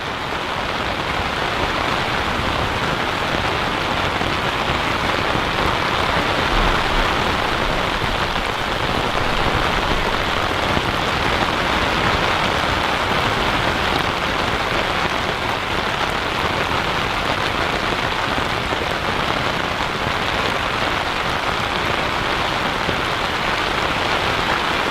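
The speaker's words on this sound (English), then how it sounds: "The rain's finally arrived and absolutely teeming it down." Heavy rain teems down beside the River Trent during a day's barbel fishing, a dense, constant hiss of drops on surfaces that stays loud and unbroken, with no voices.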